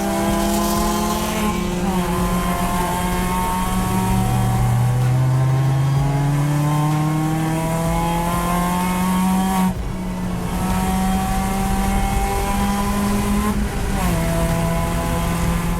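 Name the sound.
race car driving laps in an endurance race at Clark Speedway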